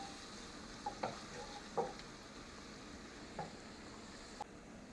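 Curry powder frying in a pot for Jamaican curry shrimp, a quiet low sizzle with a few distinct clinks and scrapes of stirring, faint and close.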